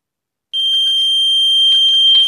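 A microwave radar sensor smart switch sets off its beeper, which starts suddenly and holds as one loud, steady, piercing electronic tone, with faint rustling handling noise beneath it.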